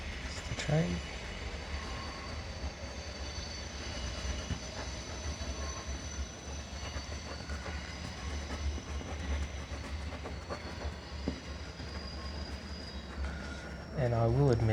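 A train rolls past through a New Zealand landscape with a continuous rumble and faint clickety-clack of wheels, heard at moderate distance throughout.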